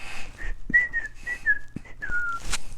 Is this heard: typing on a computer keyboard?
no